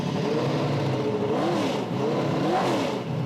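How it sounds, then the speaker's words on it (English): Several BriSCA Formula One stock cars rev and roar together at a race meeting, engines rising and falling in pitch with a rough, loud, continuous growl and a few passing swells. "John's big passion in life is BriSCA Formula One stock car racing"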